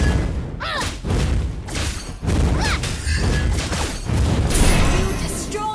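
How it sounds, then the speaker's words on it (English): A turret is destroyed in the mobile battle game Mobile Legends, with heavy booming thuds and crashing impacts, several loud hits in quick succession, mixed with game effects and a voice talking over them. "You destroyed a turret. Well done."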